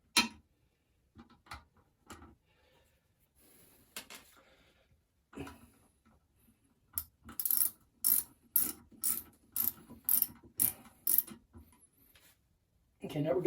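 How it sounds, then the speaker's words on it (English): A ratchet tightening the bolts on a Kohler toilet, scattered clicks first, then a rapid run of loud ratcheting bursts in a quick regular rhythm, close by. "All right, so now I've got a ratchet that should fit it. I'm just going to go ahead and tighten her down."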